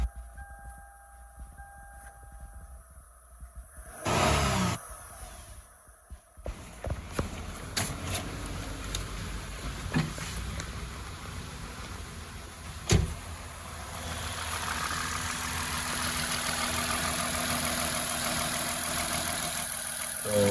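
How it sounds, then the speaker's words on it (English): A 2007 Lexus IS 350 engine, repaired after a no-start and no-crank fault, cranks with a brief burst and then settles into a steady idle, with clicks and a clunk along the way. "I'm gonna try to start it right now. Start it right up."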